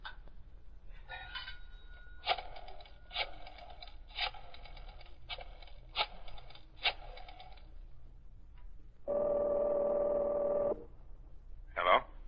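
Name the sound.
telephone being dialed, radio drama sound effect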